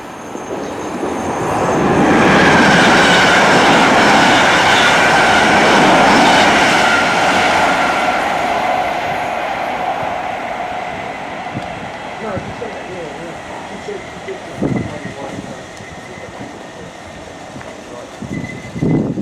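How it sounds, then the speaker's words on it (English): A London Overground Class 315 electric train pulls into a station on the Upminster shuttle, a broad loud rumble and whine building then easing as it slows, with people talking over it. "We're actually going to get this train which is just arriving now."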